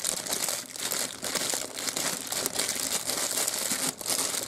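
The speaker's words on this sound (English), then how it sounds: "you fold your top over. This is really thick plastic" Thick plastic bag top being folded over, producing steady loud crinkling and crumpling that runs throughout with brief dips.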